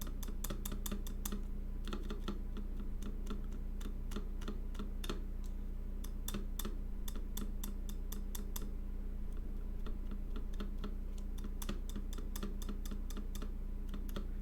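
A Keycult No.1 custom 60% keyboard with Cream switches, its keys and spacebar tapped in quick bursts of sharp, close clicks, with short pauses between groups.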